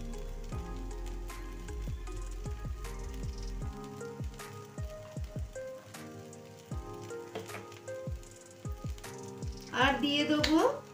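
Hot ghee poured from above onto steamed orange rice in a pot gives a soft crackling sizzle, steady from start to finish with small droplet pops, and swells briefly louder near the end.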